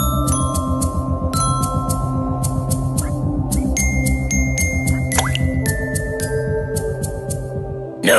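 Stones dropped one by one into water in a cartoon Aesop fable about a thirsty crow: a run of bright, plinking drips and small splashes over a steady musical background, with a sharper squelch near the middle.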